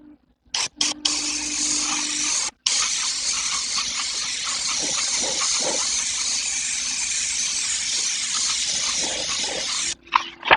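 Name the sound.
airbrush spraying paint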